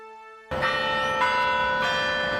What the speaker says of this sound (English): The church bells rang in downtown Houston